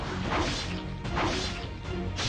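Mass melee strikes land in the game Zombie Strike as a dense run of loud crashing, whooshing hits. They come in quick bursts and overlap one another, with no talk.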